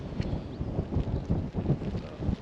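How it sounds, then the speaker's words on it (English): Wind buffets the microphone at a lakeside carp-fishing spot in cold, rainy weather, a steady low rumbling roar with gusty surges throughout. "The bloody wind's got up."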